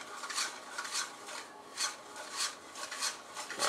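Cheese is grated on a grater in quick, rhythmic rasping strokes, about eight in a row, close and clear with no talking.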